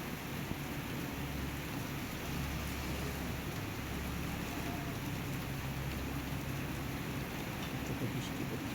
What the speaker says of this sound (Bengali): কত বৃষ্টি পড়ছে,